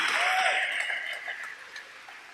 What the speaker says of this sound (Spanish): ¿Cuánto le dan un aplauso al Rey de Reyes?